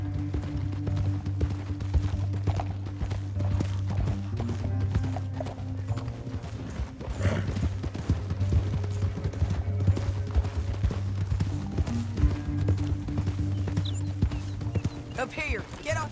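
Rapid clip-clopping horse hooves in Red Dead Redemption 2 gallop steadily under a low droning hum and game sound effects, with muffled voices talking over them.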